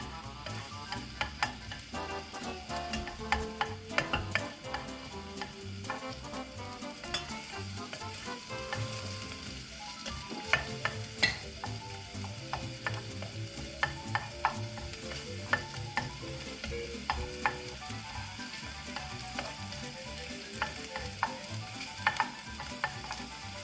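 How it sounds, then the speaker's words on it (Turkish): Steady sizzling in a pot while a utensil stirs and scrapes, producing frequent small clicks and knocks throughout, with no voices. "Bunları çok yakmadan hafiften kokuları çıkıncaya kadar tenceremize karıştırıyoruz."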